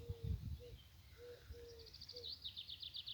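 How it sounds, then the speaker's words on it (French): Birds singing outdoors: low cooing calls of a distant cuckoo early on, then a quick series of high, faint chirps trilling near the end, distant and soft. "Les oiseaux chantent."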